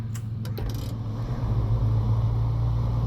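A truck engine in the snowy off-road driving game SnowRunner drones with a steady, close, low hum that swells slightly as it drives on. A few light clicks come near the start.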